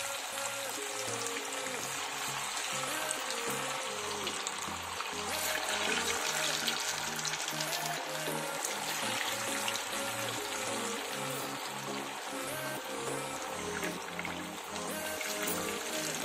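Pieces of chandrakantha, a traditional Andhra-style South Indian sweet, fry in hot oil with a constant dense fizzing sizzle that holds steady throughout.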